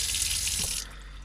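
Water runs loudly from the sink tap in a campervan, a steady close rush that cuts off abruptly near the end.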